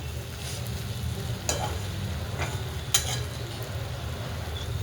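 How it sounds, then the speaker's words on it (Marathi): Stuffed okra with tomatoes sizzles in a pan while being stirred, a steady soft frying hiss broken by two sharp spatula clicks against the pan, close but fairly quiet. "त्या प्रकारे आपण हलवून घेऊया एक जीव करून"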